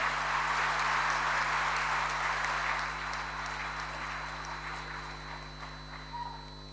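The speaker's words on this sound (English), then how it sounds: "Let's give him a warm round of applause as he does so." Warm applause from the audience at the SCOPE Excellence Awards on Public Sector Day greets the President of India, a dense, steady clapping that starts full and gradually thins and softens over several seconds.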